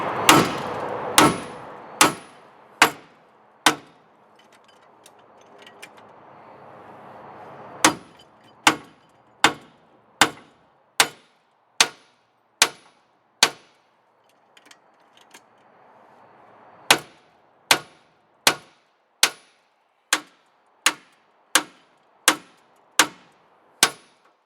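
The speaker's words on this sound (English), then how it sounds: "I'm going to beat on the arm and push the arm down onto the bearing" Heavy hammer blows strike the suspension arm to drive it down onto a new ball joint on a 1997-2004 Ford F-150, with a hydraulic jack holding it. Loud metallic strikes come in steady rapid bursts, separated by a quieter gap.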